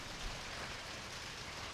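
Steady rain falls outside a small church along a hiking trail in Georgia, a soft, continuous wash of drops on roof and ground, even and unbroken with no voices.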